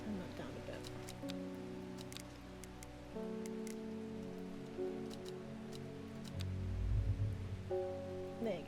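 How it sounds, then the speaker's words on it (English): Steady rain in the video game Strange Horticulture, a soft, continuous patter beneath sustained game music tones and occasional clicks, faint and even throughout. "Rain's slightly loud, yeah, I thought so."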